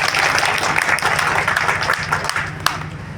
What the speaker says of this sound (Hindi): एक बार अपने लिए तालियां बजाइए आपको।